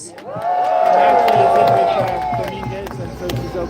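A large protest crowd of about 2,000 cheers and claps loudly for a speaker outdoors in Whitehall, London, a swelling roar of voices and applause that peaks and then fades.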